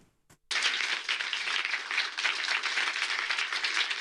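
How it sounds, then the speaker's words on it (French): An award ceremony for the Global Student Prize 2022, where a dense, sustained burst of applause erupts after a brief pause and continues steadily from a large audience. "C'est sous des applaudissements mérités"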